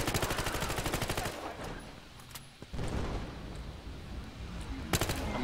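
Rapid bursts of M416 assault rifle fire in Battlefield Hardline rattle out at the start, followed by quieter shots and scuffling, then another short burst near the end.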